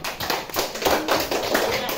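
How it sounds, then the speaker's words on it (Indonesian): Applause from a classroom of students, a steady patter of many hands clapping together at moderate loudness with no voices over it. "Tepuk tangan buat Fania."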